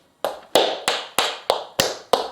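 Tap shoes strike the floor in seven crisp, evenly spaced steps, each a sharp bright click with a short ringing tail, close and loud with no voices.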